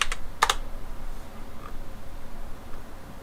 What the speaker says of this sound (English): Sometimes I twitch when I'm pressing on the keyboard